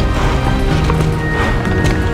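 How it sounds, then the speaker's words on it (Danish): Galloping horse hooves in the online game Star Stable, a fast, steady clip-clop rhythm running continuously and fairly loud throughout. "Og hesten, den har jo også løbet, som I kan se."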